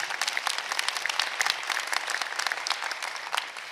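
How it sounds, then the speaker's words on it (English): A burst of audience applause at an undergraduate commencement ceremony, a dense steady patter of many hands clapping at moderate distance. "oh yes, applause, please"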